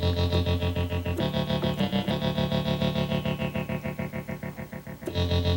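A Roland SH-1000 synthesizer holds a low, buzzy note with a pulsing tremolo and long release, loud and close, the wobble steady throughout and the pitch shifting briefly mid-way.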